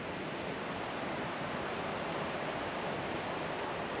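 Rushing water from a wild cascade in northern Portugal, a steady broadband roar with no pauses, fairly soft and unbroken throughout.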